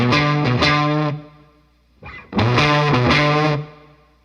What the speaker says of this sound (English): when that sounds alongside the open string, you get that warbly sound